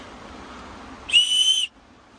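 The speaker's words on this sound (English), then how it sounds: "Whistle." A single short, shrill whistle blast from a survival kit whistle, loud and close, lasting about half a second against a quiet background.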